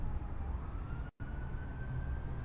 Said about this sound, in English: it just sounds like sirens, really, is all that's going on